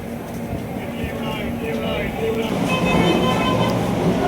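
Train noise at Vizianagaram railway junction, a steady loud rumble that swells toward the end, with people talking over it throughout.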